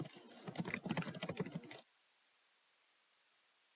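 Quick, close keystrokes on a computer keyboard as commands are entered at a command line, a dense burst of clicks lasting under two seconds and then silence.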